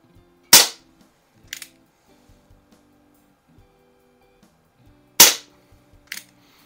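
Umarex Colt Peacemaker single-action CO2 revolver replica fires two sharp, loud shots several seconds apart, each followed by a fainter metallic click of the action, with quiet handling noises in between.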